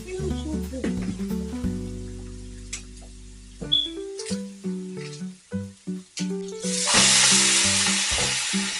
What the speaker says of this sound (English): Stirring up the pot.